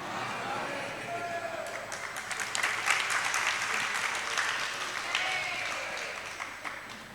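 An audience at a Jain religious discourse by a female ascetic claps, a dense, moderately loud round of applause that builds and continues, with a voice speaking over it.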